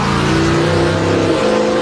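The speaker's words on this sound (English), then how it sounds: "putting the wheel stander on its tailgate, the 1931 Chevrolet fire engine performs in a way for which it was" A 1931 Chevrolet fire engine converted into a wheel stander, reared up on its tailgate at a race track, roars loud and close with a continuous high-revving engine note and no pause.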